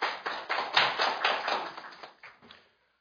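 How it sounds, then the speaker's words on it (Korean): An audience at a lecture by a former Japanese prime minister breaks into brisk applause, a dense burst of claps that thins into a few scattered final claps before stopping. "큰 박수 부탁드리겠습니다"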